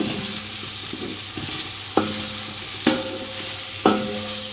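Tomato and mint are stirred into sizzling mutton biryani masala in a pan, with low frying hiss beneath three sharp spoon scrapes and clinks spaced roughly a second apart.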